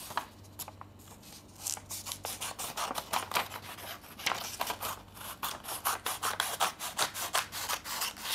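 Scissors snip through a thick paper sheet, cutting out a shape for a Diwali Ganesha paper craft, a steady run of close, crisp cuts repeating in an uneven rhythm with no talking.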